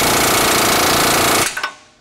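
Bolts are driven tight with an 18mm socket: a loud, continuous rattling burst lasts about a second and a half, then cuts off into a few short clicks and quiet.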